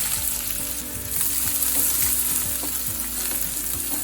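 Onion hisses and sizzles steadily in hot oil over the tempered cumin and mustard seeds, with occasional stirring scrapes and clinks heard up close.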